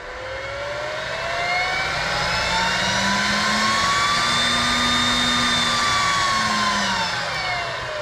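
A vehicle air blower fan is switched on and spins up, a steady rushing drone with a whining tone that rises, holds level for several seconds, then eases slightly, close and continuous.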